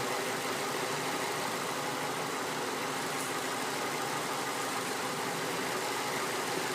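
A Ford Fusion engine idles steadily with a constant low hum and broadband noise, no talking, unchanging for several seconds.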